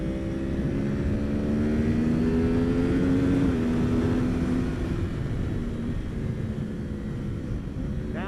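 Motorcycle engine on the Buttonwillow race track, a loud, close steady drone that rises in pitch as it accelerates, dips briefly, then holds on throttle through the run.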